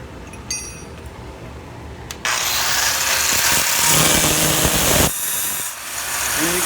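A carbide chisel cuts into a granite block as it is squared, making a loud, sustained power-tool roar with chinks of stone. The noise dips briefly near the end and then resumes.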